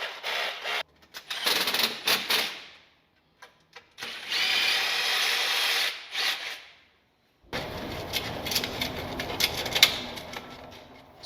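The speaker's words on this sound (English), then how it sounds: "Matty's drilled out the holes for this mounting plate and then fixed it back to the wall" A power drill boring holes through a wall for an EV charger mounting plate, in bursts of high whirring drilling separated by short pauses, followed by clattering handling noises close by.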